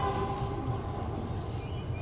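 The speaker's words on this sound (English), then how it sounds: "We're close to the train line here." A train passes on a nearby railway line as a steady low rumble with faint tonal whine, continuous and moderately close, with no talk over it.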